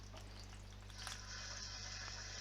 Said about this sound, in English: you'll hear the pan start to sizzle quite a lot when you add your meat